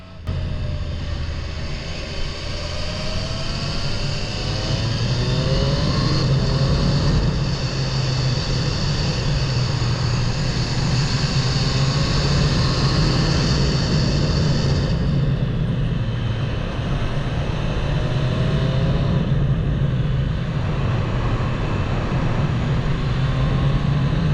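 A 2021 Triumph Street Triple RS motorcycle engine drones steadily at speed on winding roads with wind rushing past, its pitch rising and falling through gear changes, continuous and loud.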